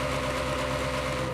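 Stock engine of a 2008 BMW M3 in a video game, a steady low idle hum with even vibration, heard alone.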